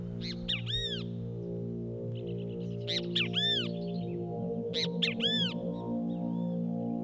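Crows cawing, unsettled by a nearby cat, in three bursts of several harsh, repeated caws over a low steady hum, fairly close and clear.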